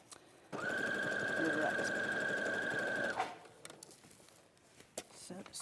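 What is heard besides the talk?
sewing machine stitching a seam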